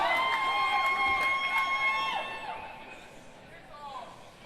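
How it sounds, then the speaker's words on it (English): Crowd at a table football world cup doubles final bursting into cheers and whistles, loud at first and fading after a couple of seconds. "the crowd explodes"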